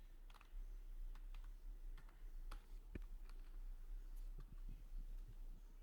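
Typing on a computer keyboard, a quiet, irregular patter of light key clicks in bursts over a low background hum, close and faint with no voices.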